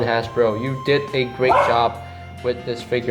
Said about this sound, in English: I'm not sure if you can hear a dog barking in the background